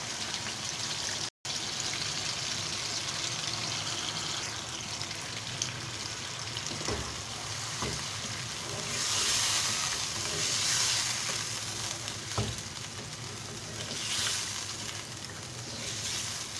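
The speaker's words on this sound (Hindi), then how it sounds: "अब हम इसमें डाल देते हैं दही" Chicken browned with garlic and ginger sizzles loudly in a pan as yogurt is added, a steady crackling fry with occasional stirring clatters and bursts of sputtering over about sixteen seconds.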